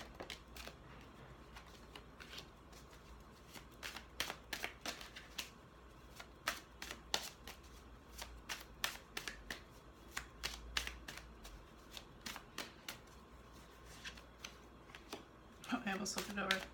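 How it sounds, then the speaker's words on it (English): Oracle card deck themed on Archangel Gabriel being shuffled by hand, a steady run of soft riffling card flicks in repeated bursts, close and quiet, with a brief louder rustle near the end. "now I'm shuffling the Archangel Gabriel deck"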